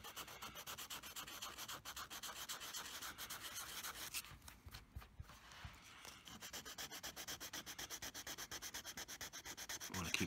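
Steady hand sanding with 320-grit sandpaper over a hole in a guitar body, a dense continuous rubbing rasp in quick back-and-forth strokes, close and alone, easing briefly midway before resuming.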